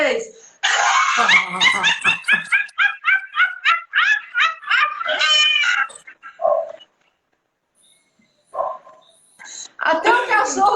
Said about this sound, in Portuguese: Até o cachorro começou a latir aqui.